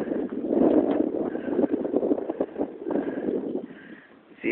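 Blizzard wind in extreme cold roars and gusts against the microphone, rising and falling in uneven surges with a brief lull near the end, no talk.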